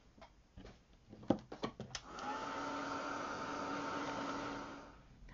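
A handheld heat tool drying an art journal background on a black disc-bound journal: a few soft handling taps and clicks, then a steady blowing whir switches on and runs for a few seconds before fading.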